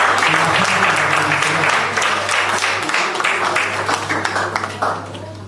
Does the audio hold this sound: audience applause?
yes